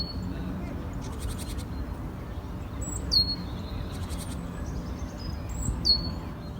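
Great tit song in an urban royal park in early spring, a few short high whistled phrases rising over a steady low background rumble, the bird sounding moderately distant.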